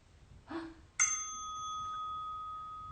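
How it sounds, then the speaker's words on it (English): A short soft tone, then a single bright bell strike that rings out clearly and fades slowly over a couple of seconds. "That was a YouTube video of a bell."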